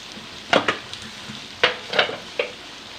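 Fried taro (arbi) is tipped into meat in a cooking pot, making a low sizzle with several distinct clattering scrapes and knocks from stirring against the metal.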